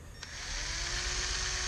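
An electric drill spins a buffing pad on aluminum from a 3rd-generation Honda Prelude, its quiet motor whine rising and then holding steady alone for under two seconds.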